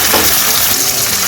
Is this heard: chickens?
no